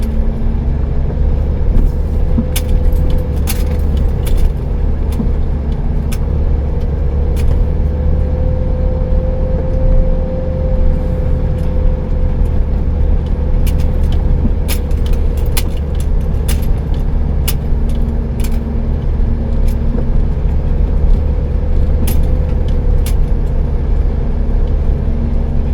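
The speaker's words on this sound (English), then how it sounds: "Yeah, just a casual drive through here." A vehicle drives along a road through the Tuttle Creek BLM area near Lone Pine, heard from inside as a loud, steady engine and road rumble throughout with occasional faint rattles and clicks.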